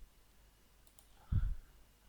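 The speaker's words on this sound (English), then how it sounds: "I'm going to click OK" A single soft computer mouse click in a quiet room as OK is pressed in SPSS statistics software, brief and close, with faint background hiss around it.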